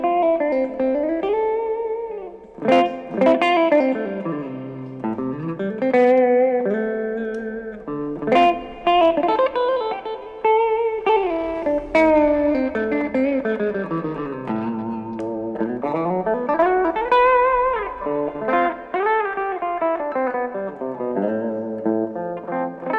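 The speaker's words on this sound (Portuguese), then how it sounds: "acionando então o booster e já vou colocar o reverb junto" A 60th-anniversary Mexican-made Fender Telecaster electric guitar played through a booster with reverb added, sounding loud and sustained with singing lead notes, bends and ringing chords, with no talking.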